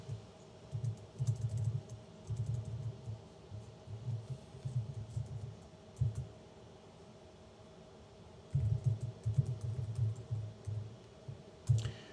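Keys clatter on a computer keyboard in uneven bursts of quiet clicking, with short pauses between runs of typing against a faint steady hum.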